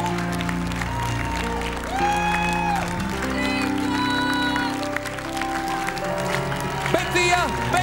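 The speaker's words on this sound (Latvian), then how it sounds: "Aplausi!" A talent show audience claps and cheers continuously, applause running under loud music and an announcer's voice.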